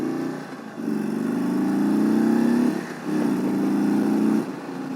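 An Indian Super Chief motorcycle engine pulls while riding, a loud close low throbbing drone that rises through two long steady pulls separated by a brief dip as the rider shifts, no talking.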